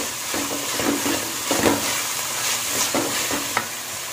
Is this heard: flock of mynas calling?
no